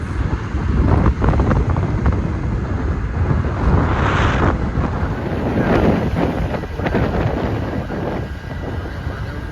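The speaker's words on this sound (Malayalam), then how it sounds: "ഇതാണ് സീ ഫ്ലൈറ്റ്." A seaplane flying over the sea at Hulhumalé, Maldives, a loud broad engine roar that swells and fades through the middle, heavily mixed with wind buffeting on the microphone, with no speech.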